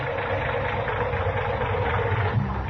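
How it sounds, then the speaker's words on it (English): A car engine idles with a low, uneven rumble and slight knocking, steady and close, with no talking. "Say, that engine of yours sounds like real tired iron."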